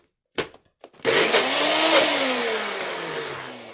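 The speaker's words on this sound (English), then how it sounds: "We'll see what happens with my Vitamix. I hope I don't break it." Vitamix blender blending black bean burger mix, a few clunks as it starts, then a loud close motor roar that swells and slowly drops in pitch as the thick mix churns.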